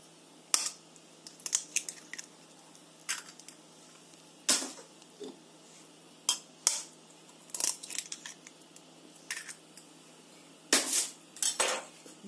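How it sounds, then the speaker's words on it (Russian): Eggs being whisked with a utensil in a bowl for a quick pizza batter, sharp clinking scrapes coming in irregular bursts, close and fairly quiet, with no voices. "Для начала мы взбиваем 2 яйца."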